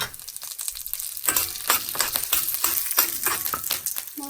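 Red chili frying in a pan while being stirred, a close, soft sizzle punctuated by repeated scraping and stirring strokes in an uneven rhythm.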